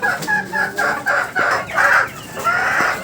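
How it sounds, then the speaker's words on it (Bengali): Several chickens cluck close by in short repeated bursts, with occasional louder squawks over a quiet background. "এই যে দেখেন এখানে যে মুরগিগুলো আছে"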